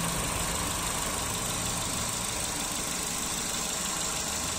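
Chevrolet Spark with a 1.2 16v engine idling, a steady low rumbling drone with constant broadband noise, close and unchanging, no speech.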